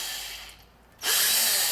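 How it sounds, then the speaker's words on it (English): A power drill fitted with a 3/32 bit bores through a model train coupler, whining briefly, dipping quieter, then surging back to a loud, high-pitched steady spin close up. "I used a 3/32 drill bit, drill through the coupler so it's a slip through"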